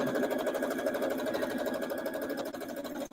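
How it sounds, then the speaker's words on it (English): A sewing machine runs fast and steadily while stitching a quilt top, its rapid needle rhythm buzzing continuously and close up for the whole stretch with no talking. "I've never sewed this fast before. So maybe the sewing machine is like, whoa."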